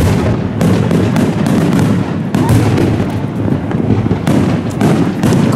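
Continuous barrage of wedding fireworks in Dubai, loud rolling booms and crackling bursts stacking one after another with hardly a gap, close and dense throughout.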